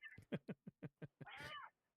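A cat meows unhappily with a quick run of short, close meows, then a drawn-out, whining yowl, alone and fairly faint.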